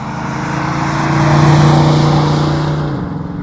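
A 1970 Ford Mustang Mach 1 engine rumbles past, swelling louder as it nears and fading away as it leaves.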